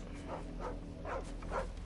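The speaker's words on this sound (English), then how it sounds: "Oh, it's a dog?" A dog in Final Fantasy XVI gives several soft, whiny yelps and whimpers in a repeating pattern over a low ambient game backdrop, fairly quiet.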